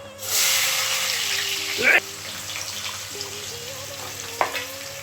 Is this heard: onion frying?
yes